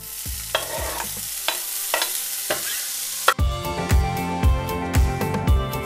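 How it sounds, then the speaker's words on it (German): Bacon frying in a pan without fat, a steady sizzle under repeated scraping and stirring strokes, with a sharp clatter before the frying grows louder and busier. "Und das braten wir jetzt ohne Fett in der Pfanne an."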